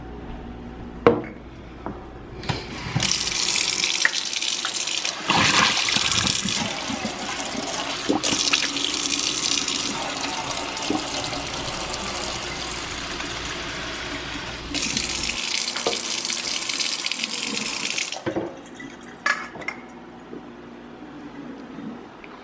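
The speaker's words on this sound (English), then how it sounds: "I'm just gonna give him some fresh water." A kitchen tap runs to fill a puppy's water bowl, a steady hissing stream that starts, pauses and restarts over about fifteen seconds, with a few clinks of the bowl and no talk.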